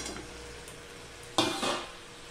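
Moringa drumstick pieces tipped into a hot pan of cooking food give a sudden burst of sizzling and frying, dying back briefly before a second surge after a quiet simmer, loud and close with no talk.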